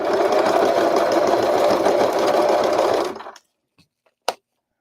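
Sewing machine stitching wrinkled fabric for a jellyfish cover: a loud, steady, close motor whir running for about three seconds, then it stops abruptly, followed by a couple of faint taps and one sharp click, no talk.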